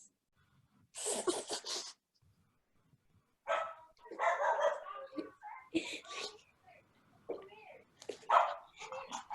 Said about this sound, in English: The dog saw the bunny, now he's barking.